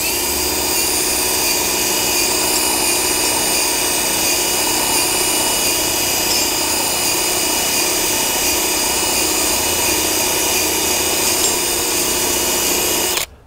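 A power drill unscrewing a ratchet binder whirs loudly and steadily at close range for several seconds, a high continuous motor whine that cuts off abruptly at the end.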